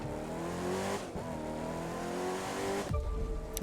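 Race car in The Crew 2 video game, a steady loud engine drone with shifting revs and a sudden change near the end, heard alone without talk.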